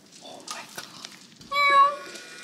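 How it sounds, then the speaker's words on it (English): A cat meows nearby on a farm in Portugal, one clear drawn-out tonal meow following a few softer sounds, with a person speaking quietly just before it. "Was that a cat?"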